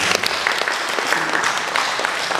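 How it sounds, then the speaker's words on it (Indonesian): A crowd bursts into sustained, dense applause at a welcoming ceremony honoring national KSM champions, the clapping steady and fairly loud throughout with no break. "Tepuk tangan dulu buat ini"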